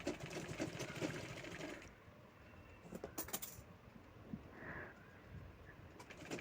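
A sewing machine stitches fabric cut from an old saree along the inner side of a strip. It whirs steadily and close for about two seconds, then runs in short intermittent bursts over a quiet background.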